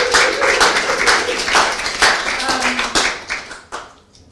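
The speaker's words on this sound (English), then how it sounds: "can we have a massive round of applause for Pineapple Party?" A round of applause for Team Pineapple Party: quick, uneven hand claps from a small group, fairly close, with some voices mixed in before the clapping thins out near the end.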